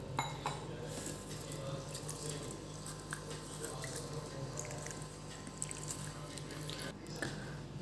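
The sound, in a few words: washing lentils in water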